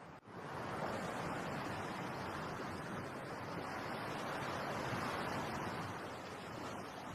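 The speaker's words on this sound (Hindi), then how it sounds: "अपनी आंखें बंद कर समुंदर की लहरों को सुनकर मुझे शांति मिलती है।" Waves from the sea roll continuously against the shore as a steady, even wash of surf, with slight rises and falls in loudness. It sounds calm and moderately distant, with no one speaking.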